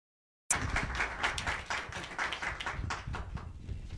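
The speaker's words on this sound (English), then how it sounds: "And a nice round of applause," An audience at a peace-themed gathering bursts into a round of applause for guests, dense clapping starting abruptly after a moment of silence and continuing steadily, fairly close.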